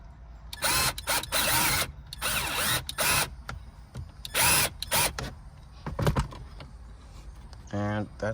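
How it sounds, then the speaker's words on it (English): A power drill driving screws back in while reassembling parts on a 2018-2021 Honda Accord, heard as several short, close whirring bursts separated by brief pauses. "I'm going to use the drill and just screw it right back in."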